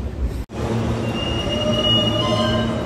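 A New York City subway train rumbles steadily close by as it arrives, with high metallic wheel squeals drawn out over the loud, continuous roar; no voices.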